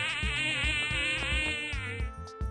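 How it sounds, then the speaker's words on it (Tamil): A buzzing insect sound, presented as a beetle, holds a steady, close, whining drone over the whole moment, set against a soft repeating rhythmic backing beat with no talk. "அடுத்து வண்டு. வண்டு எப்படி சத்தம் போடும்?"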